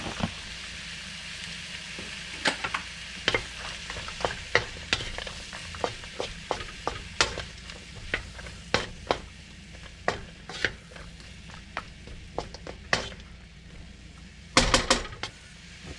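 Pea pods stir-frying in an electric wok, with a continuous sizzle broken by frequent sharp clacks and scrapes of a utensil against the pan, close and busy, with no talking.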